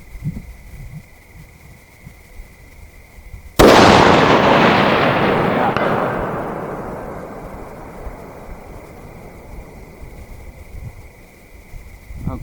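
A single 6x284 rifle shot fired at night toward a steel plate 600 yards away cracks loudly after a quiet stretch, then rolls off into a long, fading echo across the range.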